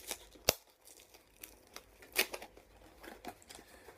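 Plastic wrapping being torn off a Jace vs Vraska Duel Deck, with close, quiet crinkles and several sharp tearing bursts spread irregularly over a few seconds.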